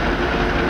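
An Amtrak train moving west on the rails, a steady close rumble with faint rolling rail noise, broad and continuous with no talk over it.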